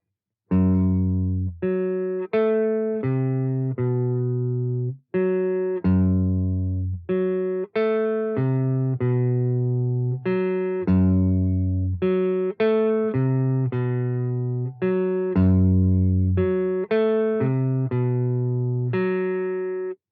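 A slow electric guitar riff, clean, sustained picked notes repeated phrase after phrase with even rhythm and no voices.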